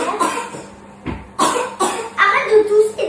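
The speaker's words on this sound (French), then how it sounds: "Arrête de tousser là." A child coughing at home during a family meal, several sharp, loud coughs in quick uneven succession, close to the listener, with speech mixed in between.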